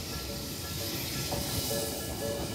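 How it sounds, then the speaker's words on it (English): A passing train rumbles and hisses steadily at a level crossing in Tokyo, with a few tonal warning chimes ringing out over the constant rail noise. "Here's a level crossing. It looks like there's a train coming."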